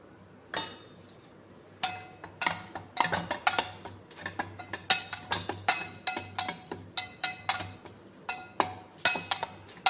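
Spoon scraping and clinking against a metal vessel while mixing nut powder with jaggery syrup and ghee, a string of sharp, close clinks in an irregular rhythm after a brief pause.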